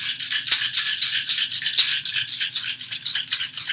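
Rapid, rhythmic rattling and swishing of a cocktail shaker shaken vigorously continues throughout, fairly close and steady.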